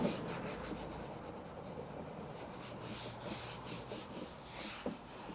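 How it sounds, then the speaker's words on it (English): Stained plastic interior car trim is scrubbed with a brush after a foaming cleaner, giving a quiet, steady rubbing and scratching texture with short repeated strokes and no voices. "come in and scrub the plastic"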